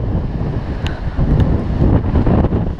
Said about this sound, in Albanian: Po frym shumë erë.